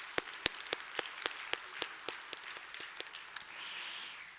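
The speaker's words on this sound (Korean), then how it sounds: "우리 감사의 박수 올렸으면 좋겠습니다" Church congregation applauding at a Korean Mother's Day service: sharp, evenly spaced claps ring out one after another in a reverberant hall, then fade into a soft murmur.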